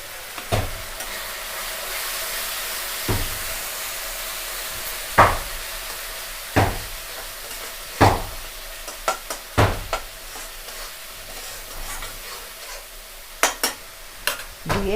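Chili powder and Kashmiri chili masala stir-fried for chili chicken: a continuous oily sizzle broken by repeated sharp scrapes and clacks of a spatula against the pan, close by and with no voices.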